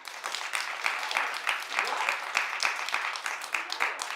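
Studio audience at a daytime TV talk show breaking into steady applause, a dense even patter of many hands lasting several seconds at moderate loudness, close-miked and filling the room.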